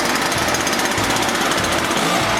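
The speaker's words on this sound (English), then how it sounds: "Let's see if it'll start without choking it or nothing" ECHO PB-500T backpack leaf blower two-stroke engine running loud and steady after a rebuild, a continuous buzzing drone with a rough rhythmic pulse, close by with no talk.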